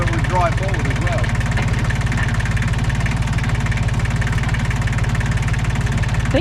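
A tractor engine runs close by with a steady, even rumble and fine rhythmic pulsing throughout, holding at a constant pace rather than climbing in pitch, with faint voices around it.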